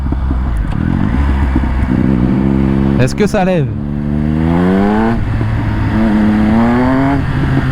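A Triumph Speed Triple 1200 RS motorcycle revs hard and accelerates nearby, its engine note climbing in rising sweeps through the gears after a sharp mechanical burst, while a rider's voice speaks over the loud engine.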